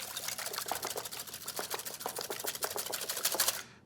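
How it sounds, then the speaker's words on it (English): Eggs whisked with double cream, salt and black pepper in a bowl, a rapid, even clatter of whisk strokes against the sides, close and steady with no talk. "Whisk this all up."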